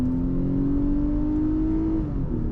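A 2022 Nissan Pathfinder pulls hard from a full stop, its engine droning in a rising, steady pitch heard from inside the cabin, then dipping briefly near the end as it shifts.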